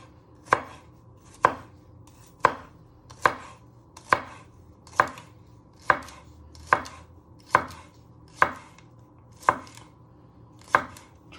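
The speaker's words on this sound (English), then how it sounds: "And then you want to finely slice it into little pieces." A knife finely slicing spring onion on a board, sharp, evenly spaced chops about one per second, close and clear with nothing else in the room.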